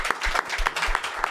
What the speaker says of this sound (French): On peut applaudir la carte cachée.